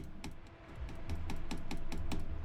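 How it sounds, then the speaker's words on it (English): Rapid computer input clicks during first-person shooter play in a cyberpunk game, a steady run of sharp, close taps in quick rhythm over faint game sound, with no talking. "I'm literally left clicking and right clicking."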